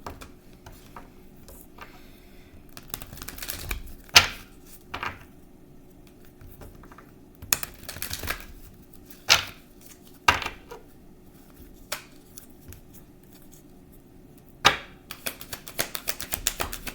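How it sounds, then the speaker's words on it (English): A deck of cards being shuffled: a run of brisk, papery riffles and soft snaps, some louder than others, with quiet stretches in between. "I'm going to shuffle."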